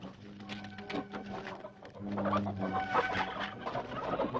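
Chicks and turkeys cluck and chirp in a busy farmyard chorus, the calls overlapping and growing louder midway, with no talking.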